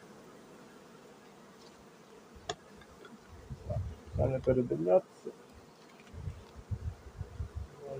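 Honeybees buzz in short, faint bursts close by, with low rustling and a brief spoken remark mixed in.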